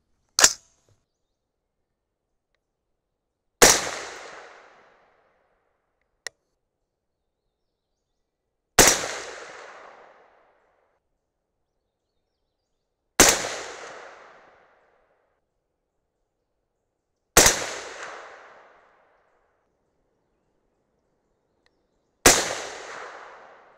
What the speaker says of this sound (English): So let's see how they shoot with Reloader 15.